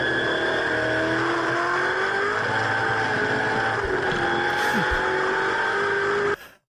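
Race car engine during a circuit race at Phillip Island, screaming steadily at high revs with pitch shifts through gear changes, loud and continuous before cutting off at the end.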